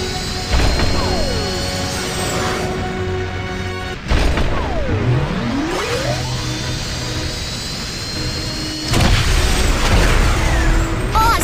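A cartoon rocket blasts off in a Baby Panda game, a loud roaring rush with rising and falling whooshing tones, sudden bursts and a fresh surge near the end.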